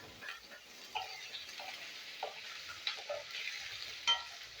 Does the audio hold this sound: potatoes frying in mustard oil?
yes